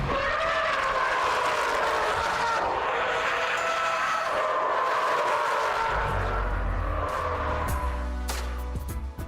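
A Subaru Impreza STi accelerates hard, its engine roaring loud and continuous, rising through the revs with a brief tyre squeal, then a deeper rumble as it pulls away.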